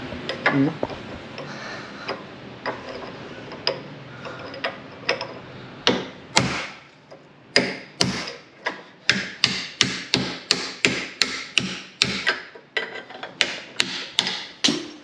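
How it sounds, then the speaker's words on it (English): A DeWalt brushless 54-volt cordless power tool fitted with a large battery, working on a Vauxhall Vectra B 2.2 16v. A quiet start gives way to a rapid series of sharp, loud, close bursts with brief gaps, and some voices around. "A DeWalt Wit brushless 54 volt with a big bad boy battery on it."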